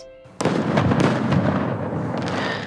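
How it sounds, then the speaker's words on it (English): Fireworks bursting outdoors: a sharp loud boom starts a dense crackling, popping display that sustains with further bangs and sparkle. "Okay, like I do have a thing for fireworks. This is amazing."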